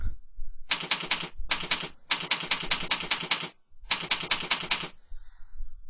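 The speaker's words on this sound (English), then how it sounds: "you're going to type in the name of the website that you're going to host" A domain name is typed on a keyboard in four quick bursts of close, crisp key clicks, with short pauses between them.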